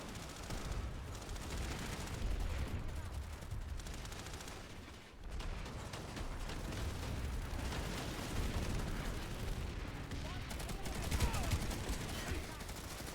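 Gunfire in a first-person shooter crackles and booms in a dense, continuous stretch of shots and blasts, a voice talking now and then over the shooting.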